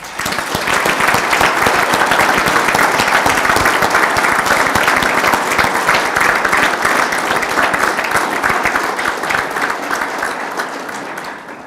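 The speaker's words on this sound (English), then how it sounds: "If you would all join me in offering Liz a huge round of applause." A large audience gives a long round of applause, dense continuous clapping at an even level for about ten seconds before it starts to fade, with no talking over it.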